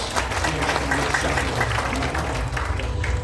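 Congregation applause at a church evangelistic gathering in Malang, a full, continuous round of clapping with a low crowd murmur underneath, steady throughout.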